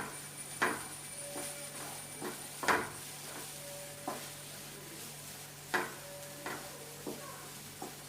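Sliced onions go into a pan of potatoes for a Spanish omelette and get stirred, a spatula scraping and tapping against the pan every second or so over a faint, quiet sizzle.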